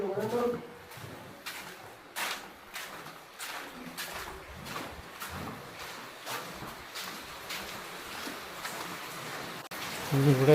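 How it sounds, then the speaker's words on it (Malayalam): Steady afternoon rain falls on a muddy site, a dense hiss broken by scattered sharp drop hits at moderate loudness, swelling slightly near the end. "ഉച്ച കഴിഞ്ഞ് മഴ."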